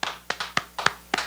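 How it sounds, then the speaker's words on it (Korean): A church congregation at a Friday worship service claps in thanks to God, a short burst of about seven sharp, uneven hand claps close by, with no voices over them. "우리 하나님께 감사의 박수 올리겠습니다."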